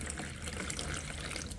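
Warm tap water pours steadily into a container with a soft, close trickling wash that runs unbroken and alone for a moment.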